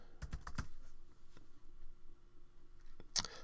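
A few quick keystrokes on a computer keyboard tap out close by, then a pause, then a final sharp click near the end, with no talking.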